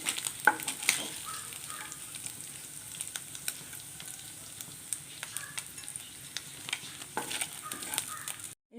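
Anchovies deep-frying in oil for a Kerala-style fish pickle, a steady close sizzle and crackle with occasional stirring scrapes, no voices.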